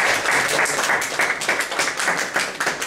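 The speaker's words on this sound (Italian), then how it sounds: "Qua c'è un applauso un po' più forte perché è presente." Audience applause at a poetry prize ceremony as a third-place winner comes forward, steady dense clapping throughout with no voices on top.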